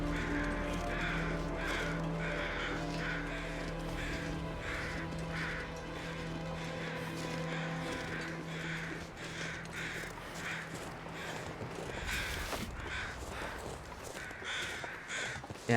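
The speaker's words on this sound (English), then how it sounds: "I can hear some crows, maybe we got a corpse here" Crows caw repeatedly in a video game, hoarse calls recurring in a loose rhythm over a low ambient hum, moderately distant, with faint crunchy footsteps toward the end.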